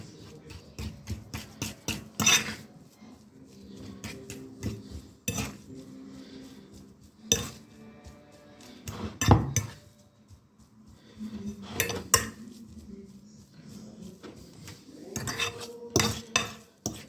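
Spoon scraping and clinking against a bowl while mixing vegetarian burger ingredients with salt, irregular knocks and stirring strokes, close and alone.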